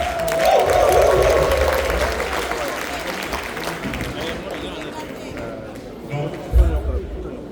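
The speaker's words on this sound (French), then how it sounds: "C'est maintenant, il faut applaudir." An audience breaks into applause, loud clapping and crowd murmur that swells early and then thins into chatter and scattered claps, with a thump near the end.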